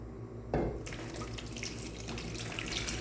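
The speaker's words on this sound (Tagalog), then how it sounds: "Lagyan ng tubig." Tap water pours into a cooking pot for boiling corn, a sudden gush that settles into a steady bright splashing stream, close and alone.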